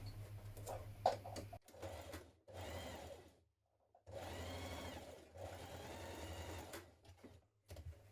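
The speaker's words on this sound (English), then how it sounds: "I'm going to stitch this on both sides." A sewing machine stitches the shoulder seams of a neck facing in steady bursts of whirring, stopping briefly between runs and pausing longer once midway, close and alone.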